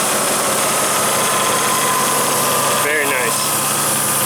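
A Jeep Grand Cherokee ZJ 5.9 V8 idles evenly throughout, smooth and continuous with no misfire, with a brief higher-pitched wavering sound near the end.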